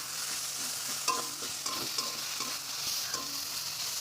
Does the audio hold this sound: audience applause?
no